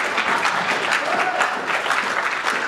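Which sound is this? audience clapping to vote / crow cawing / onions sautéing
audience clapping to vote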